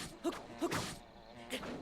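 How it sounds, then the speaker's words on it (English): Buzzing insect swarm of bees in the video game Breath of the Wild, a few short near buzzy bursts rising and fading over a soft background. "Swarm of bees."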